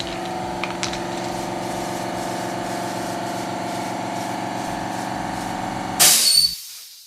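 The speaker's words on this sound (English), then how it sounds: "I'm going to spray it on the back side of our plate" A short hiss of zinc aerosol spray onto the back of a metal plate bursts out for about half a second near the end, following a steady mechanical hum.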